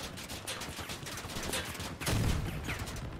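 Bursts of gunfire aimed at a vehicle in the video game Crossout rattle in rapid, uneven volleys, with a heavier, louder burst partway through.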